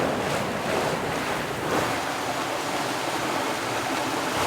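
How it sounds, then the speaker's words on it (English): Wind gusts and waves while a sailboat sails through a hazard area, with steady roaring wind buffeting the microphone over rushing water, loud and continuous, with no voices. "yeah, there's some wind gusts, probably from the little hills"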